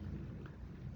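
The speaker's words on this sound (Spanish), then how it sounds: "si escuchan un ruido de fondo es que tenemos una interesante tormenta eléctrica en este" Low rumble of thunder from an electrical storm, a brief steady roll at moderate loudness with faint rain-like texture and no talk.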